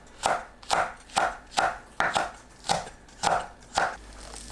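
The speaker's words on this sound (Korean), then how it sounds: "청양고추와 홍고추, 파를 어슷 썰어주세요." Knife chopping hot green chili, red chili and green onion on a cutting board: eight evenly spaced crisp knife strikes, close and clear, with no talk.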